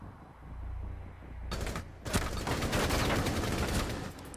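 Automatic gunfire from Rainbow Six Siege: after a quiet lead-in, a short burst breaks out, then a dense, sustained rattle of shots continues loud and close.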